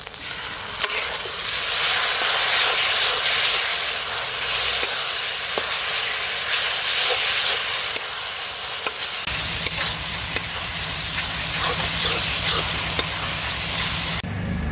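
Garlic paste, ginger paste, green chillies and tomato paste hiss and sizzle loudly in a pan of fried onions, with scraping stirs and small ticks running throughout and a deeper bubbling entering partway.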